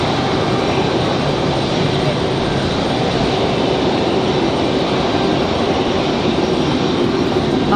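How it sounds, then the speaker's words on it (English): A Frontier jet airliner lands at Raleigh-Durham airport, its steady broadband engine and air roar filling the scene at close range, loud and continuous with no talk over it. "Nice touchdown for Frontier, a little hard on the nose looked like."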